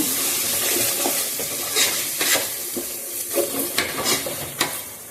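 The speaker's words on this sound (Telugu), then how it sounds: "ఇవి వేసుకొని బాగా ఇలా ఒక్కసారి కలుపుకోవాలి" Spices being stirred into tomatoes sizzling in a hot pan, with a steady frying hiss and several soft scraping strokes of a spoon, close and with no one talking.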